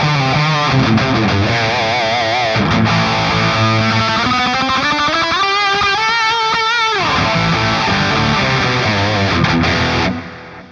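A heavily distorted electric guitar plays a lead line through a 5153-style amp model on a JOYO Jam Buddy II, with sustained bending notes that swell and slide, up close and loud, before cutting off at the end.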